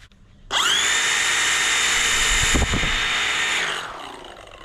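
A brushed cordless battery string trimmer motor starts abruptly and runs with a loud, steady high whine and a brief thump midway, then spins down over about a second.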